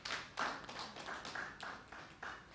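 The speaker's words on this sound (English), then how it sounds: "We also give her a big round of applause." Round of applause at a company annual general meeting, steady clapping from a modest crowd lasting a couple of seconds with rhythmic surges, moderately close and unaccompanied by talk.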